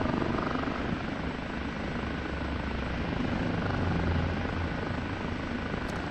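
Steady, loud rotor and turbine roar from an OH-58D Kiowa helicopter in flight in the DCS flight simulator, a continuous dense drone with slight swells, heard alone without talk.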